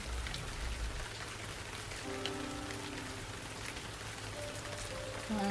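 Continuous light rain in the video game Rain City patters on surfaces, soft and steady, with faint low tones and no voices.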